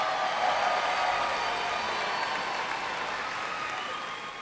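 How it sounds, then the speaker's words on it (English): Steady, dense applause from a large audience at a university commencement ceremony, honoring a graduating Executive Master of Health Administration class; broad, continuous clapping that fades slightly toward the end. "Please give a round of applause for the 2017 Executive Master of Health Administration"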